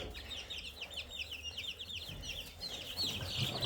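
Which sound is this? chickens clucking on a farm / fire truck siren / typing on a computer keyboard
chickens clucking on a farm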